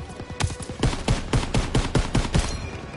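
Call of Duty WWII machine gun fire in rapid, rhythmic bursts of sharp, loud shots, close and steady for a few seconds with no talking.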